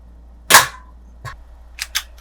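A Daisy 853 air rifle firing a pellet into a can, one sharp close crack followed by a softer metallic tap and two quick faint clinks.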